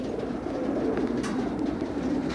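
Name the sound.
pigeons cooing in a basket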